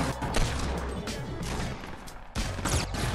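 Gunfire in Fortnite Battle Royale, rapid bursts of shots and crashing impacts dense and loud at first, a brief dip, then another sharp volley of firing near the end.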